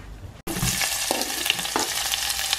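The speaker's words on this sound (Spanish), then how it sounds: "Se fríe el pan." Bread fries in hot oil, starting with a quiet moment before a loud bubbling sizzle bursts in and continues steadily with a few utensil scrapes.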